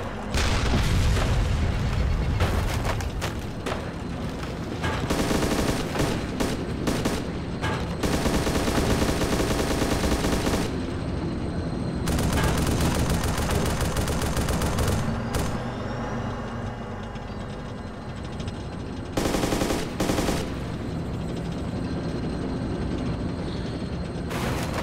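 Sustained automatic machine gun fire in the military video game Arma 2 comes in long loud bursts with brief pauses between them, layered with booming shots and dense, harsh gunfire filling the whole stretch.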